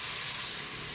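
Coconut milk boils in a pot for squash and crab soup, with a constant, loud hiss of steam and bubbling, unbroken throughout.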